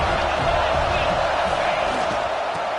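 A football stadium crowd at a CFL game sends up a dense, continuous roar of cheering that stays loud and even from start to finish, with no clear break in the noise.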